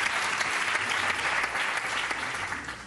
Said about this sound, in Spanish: Yo os agradezco mucho los aplausos